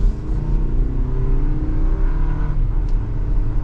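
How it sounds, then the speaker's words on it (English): A 2023 Toyota Highlander Limited AWD with a turbo engine and 8-speed automatic accelerates under load, heard from inside the cabin as a loud, steady engine drone that rises in pitch with a brief shift dip, with no talking. "Kind of feel out this turbo engine and 8-speed,"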